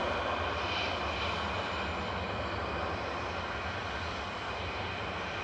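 An EasyJet airliner departs Manchester Airport for Lyon with a strong, continuous engine roar that holds steady and close for the whole moment.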